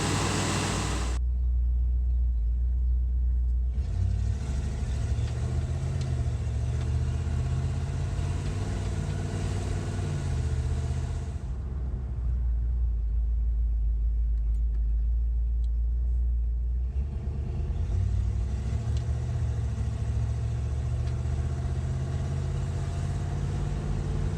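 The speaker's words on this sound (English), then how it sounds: "Let's take the truck for a test drive and see what the pressure ends up being." A truck on a test drive after an oil pump replacement meant to fix low oil pressure, its engine a steady low rumble with road noise throughout, swelling and easing as it accelerates and settles, with no talk.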